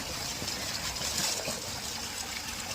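Water pours from a borewell on red-soil farmland, a continuous rushing gush with splashing that holds steady and fairly close throughout, with no talking.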